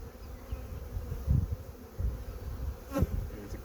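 Honey bees buzz around overwintered mini mating nuc colonies, a faint, low hum that rises and falls as individual bees drift past, with one brief, closer pass near the end.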